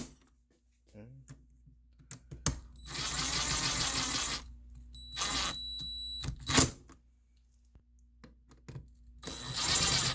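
A battery seal fitting tightened slowly all the way down by hand, giving bursts of scraping and ratcheting mechanical noise with short pauses, close and fairly loud, with quiet talk around them.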